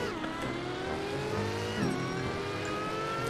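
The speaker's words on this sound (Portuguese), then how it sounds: "Eu passei direto com o carro." A Venom GT supercar in Roblox Driving Empire roars past with a loud, steady engine drone whose pitch shifts partway through, continuous and close with no voices.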